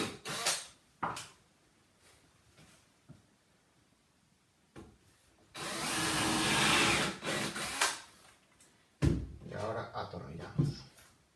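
A drill bores a pilot hole into wood for screws while building workshop furniture, a sustained whirring burst of a few seconds followed by a shorter second run, with quiet handling knocks before and between.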